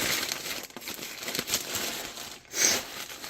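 Plastic Temu parcel packaging crinkles and crackles close up as it is handled and pulled open, with irregular rustling bursts throughout.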